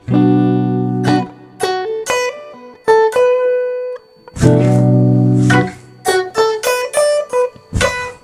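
Electric guitar strums a full chord, then picks a quick single-note lick, alternating chords and runs of plucked notes up close with no talking.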